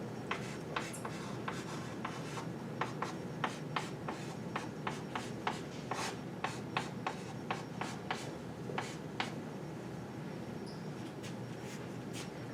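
Marker or chalk writing on a board during a math lesson, a faint series of quick scratchy strokes and taps in an irregular rhythm, with no talk.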